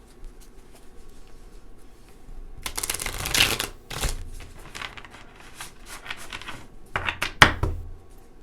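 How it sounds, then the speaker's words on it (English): Tarot cards are shuffled in short riffling bursts, a few brisk flurries separated by quiet pauses, close by. "These are kind of hard to shuffle."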